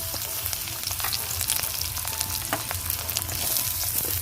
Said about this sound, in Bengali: কড়ার মধ্যে কিছুটা তেল দিয়ে দিয়েছি এবার পেঁয়াজগুলো আমি একটু লাল লাল করে ভেজে নিব